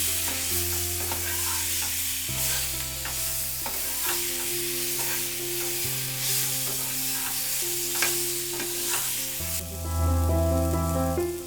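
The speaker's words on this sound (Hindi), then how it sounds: "इसको अब अच्छे से मिक्स करें।" Boiled raw mango with turmeric and roasted masala is stirred in a pan, giving repeated scraping and stirring sounds with a light sizzle, set under steady background music.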